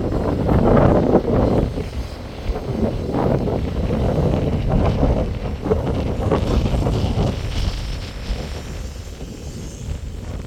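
Steady, heavy wind buffeting the microphone outdoors at a minivan surplus yard in Dasmariñas, Cavite, a continuous low rumble with gusts rising and falling throughout, no voices.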